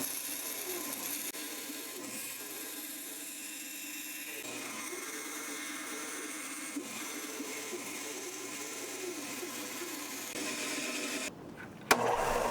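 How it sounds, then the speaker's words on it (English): Bandsaw cutting out a fishing lure dive bib, a steady, fairly loud mechanical whir and hiss that runs continuously until the blade winds down near the end. "and then I'll cut it out on the bandsaw"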